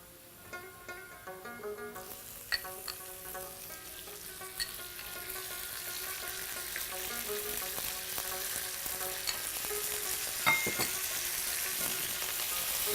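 Beef added to a hot pan with onions and whole cumin seed, a steady sizzle that swells into loud continuous frying with occasional stirring scrapes, close up.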